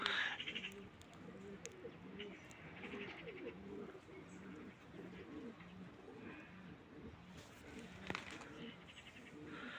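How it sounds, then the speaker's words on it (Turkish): Soft, repeated pigeon coos murmur continuously through the clip, with faint bird chirps and light ambient noise in the background. "burada güzel kuşlar var"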